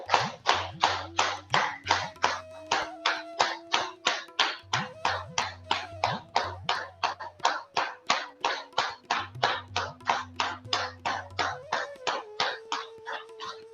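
Steady, loud rhythmic hand clapping from a yoga class, around three claps per second for the whole stretch, with a low hum or tone running underneath.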